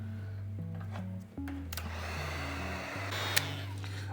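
A hair dryer runs steadily close by, blowing hot air over a painting in an art studio, with a continuous motor whine and a brief dip before it returns to full power.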